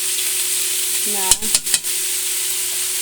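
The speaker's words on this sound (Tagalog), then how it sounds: "Lagay na natin ang ating gulay" Carrots and beans dropped into a hot, sizzling pan for pancit bihon. A steady frying hiss runs throughout, broken by a few sharp clattering hits and stirring noises midway as the vegetables go in.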